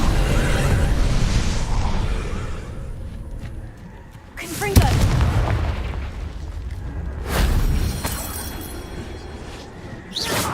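Booming explosions from the Confringo blasting spell in the video game Hogwarts Legacy, several heavy bursts spaced a few seconds apart over rumbling game ambience.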